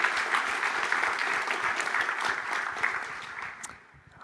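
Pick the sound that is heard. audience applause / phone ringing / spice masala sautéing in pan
audience applause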